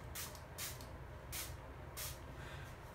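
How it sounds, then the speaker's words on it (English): Femme Couture Get Locked setting spray hisses onto a face in four short, evenly spaced bursts, close and airy, over a low room rumble. "Now I'm going to take my Get Locked Setting Spray by Femme Couture."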